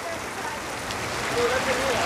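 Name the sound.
water falling from Pandav Falls into cave, like rain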